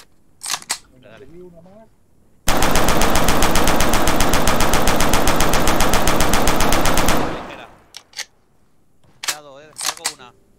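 Sustained automatic gunfire in the Arma 3 video game during a Spanish Civil War urban training simulation, a loud continuous burst of about five seconds with short sharp shots and voices before and after.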